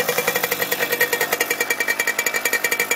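A Simson S51 motorcycle's small two-stroke engine runs close by in a field, a rapid, even, rattling putter of sharp repeated pulses with no voices over it.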